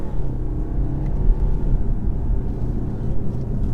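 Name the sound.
2021 BMW 520d Touring accelerating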